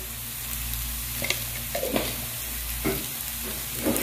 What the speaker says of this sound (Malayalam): ഒന്നങ്ങ് വഴറ്റിയെടുക്കാം.